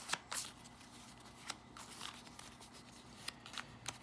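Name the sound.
shuffling character cards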